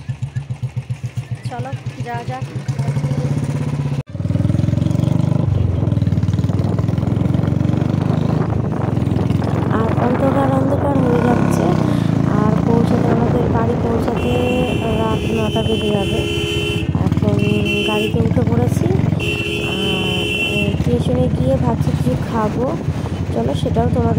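Ride on a motorcycle, a steady engine drone running under frequent close talk, with a short buzzing horn-like tone sounding a few times midway.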